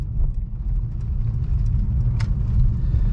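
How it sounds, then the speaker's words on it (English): A 2018 Mercedes-AMG E63S cruises in comfort mode, its engine a subdued, steady low rumble mixed with continuous tire and road noise from close inside the car. "I just want to give you guys a listen to what this car sounds like in comfort"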